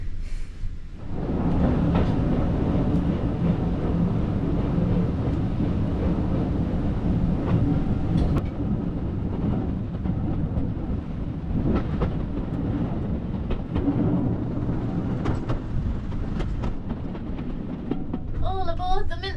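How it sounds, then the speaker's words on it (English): A heritage steam train on a Welsh Christmas mince pie excursion pulls away from the platform. Its rumble and clatter are continuous and fairly loud, with people talking faintly aboard. "This lovely little steam train ride at Christmas time."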